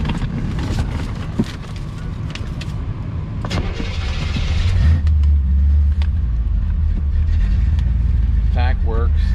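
A classic car's engine starts and runs at an auction in Zephyrhills, Florida, a low steady idle rumble building after ignition, close by, with people talking over it.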